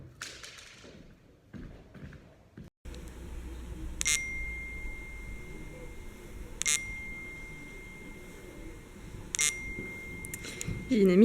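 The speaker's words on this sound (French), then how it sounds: "Mon téléphone il sonne trop bizarrement." A mobile phone ringtone rings with a few sharp, spaced electronic bursts over a steady high tone, moderately near, with talk before and a low hum underneath.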